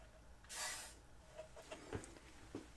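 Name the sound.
spraying WD-40 silicone lubricant from a can into a cup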